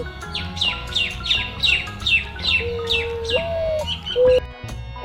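A dove calls in a rapid series of bright, falling chirps, then gives a couple of lower whistled notes, close and fairly loud.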